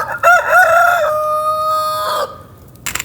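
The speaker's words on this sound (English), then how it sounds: "Oh, I have the chicken posse coming to check on me." Chickens near a backyard coop: a loud, close rooster crow with a long drawn-out held note, followed by a brief cluck near the end.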